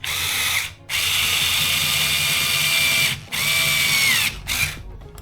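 A power driver whirs in three short bursts as screws are driven into the bulkhead of a Tekno MT410 2.0 RC truck, each burst winding down as the screw seats, close and fairly loud.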